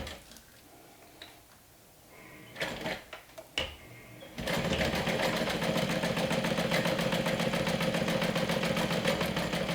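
A sewing machine runs steadily, stitching a narrow 1/8 inch seam along the bottom of a handmade Christy crossbody bag; after a few quiet handling clicks it starts and holds a continuous, fast mechanical whir at close range.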